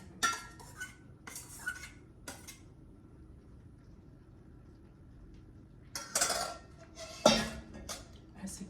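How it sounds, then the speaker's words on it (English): Sweet potatoes are tipped back into a pot of kale with smoked turkey: a few sharp clinks and clatters of a utensil against cookware come in short bursts, separated by a quiet stretch of low kitchen hum. "So I'm adding back my sweet potatoes"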